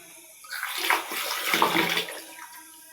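Water runs and splashes while a fish cooking pot is washed clean on the stove, rising into a close, bubbling rush for about a second and a half before easing off.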